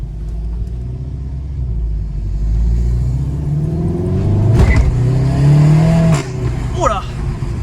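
A Seat Leon Cupra 300 engine revs up inside the car, a deep rumble climbing steadily in pitch with a couple of sharp shifts, while people talk over it.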